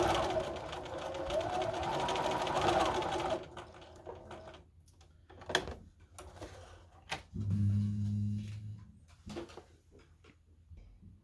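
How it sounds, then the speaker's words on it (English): Sewing machine stitching a seam on a fabric face mask with a filter pocket, a steady close whirring run for about three seconds, then quieter pauses with short clicks and brief bursts of stitching. "I'll take that out. And sew down to the other pin."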